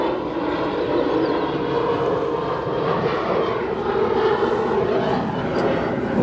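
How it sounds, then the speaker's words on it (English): A CRJ 700 jet airliner departs from O'Hare with a loud, steady engine roar that holds at a constant level. "Those light CRJs don't need a ton of runway. That one got off the ground in a hurry."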